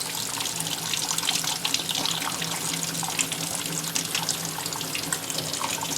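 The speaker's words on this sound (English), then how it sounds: "I usually just use like a lukewarm water. And I usually just rinse it off" Lukewarm water streams from a tap over a piece of etched glass as it is rinsed, a steady splashing gush with small irregular spatters, close and continuous.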